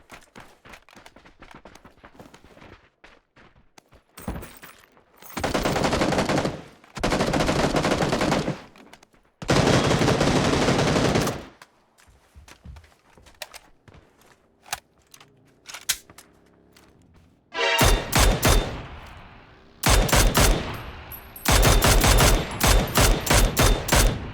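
Gunfire in a PUBG squads match, loud sustained automatic bursts separated by quieter stretches of footsteps and movement, with rapid repeated volleys toward the end.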